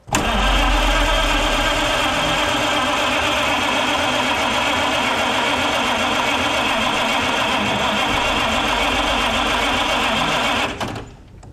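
A 100-year-old car engine cranks and catches with a loud, steady, close running rumble that goes on for about ten seconds and then stops abruptly, with no talking over it.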